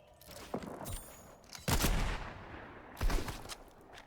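Video game gunfire from players fighting nearby on the map: a few scattered shots, then two heavier bursts of rapid fire, fairly close and punchy against a quiet background.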